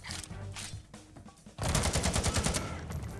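AK rifle fire in the shooter game XIII remaster: bursts of rapid gunshots, then a dense sustained volley of automatic fire, loud and close with game mechanics and effects mixed in.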